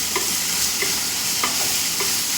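Three dried red chillies fry in oil in a pan under a loud, continuous hiss of sizzling, while a spoon scrapes through them in about four evenly spaced strokes.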